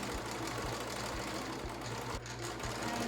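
A sewing machine hums continuously with a steady, regular thumping needle rhythm as it stitches elastic into a medical face mask, running close and alone throughout.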